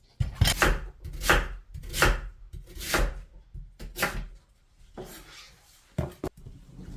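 A knife chops through a large radish being split for dongchimi, water kimchi, with about eight sharp cuts at an uneven pace, close and clear with no talk.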